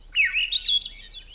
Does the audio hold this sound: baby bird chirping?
yes